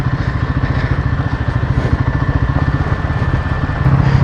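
A Royal Enfield Himalayan 450 motorcycle idles close by with a loud, steady, rapid engine pulse and a faint whine above it. The engine note thickens slightly near the end as the cooling fan kicks in.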